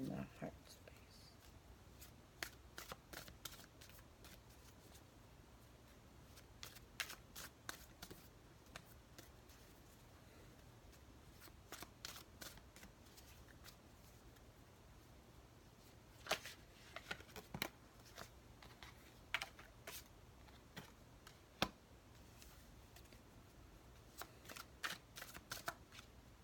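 Tarot cards are shuffled up close in quick, crisp riffling bursts and soft slaps, repeated in irregular clusters throughout, with a person talking quietly between them.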